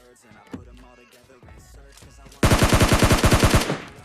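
Gunfire from an S686 shotgun in PUBG Lite, a rapid loud burst of about a dozen closely spaced shots lasting just over a second, following quieter scattered game sounds.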